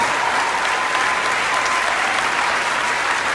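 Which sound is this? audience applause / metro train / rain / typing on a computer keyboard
audience applause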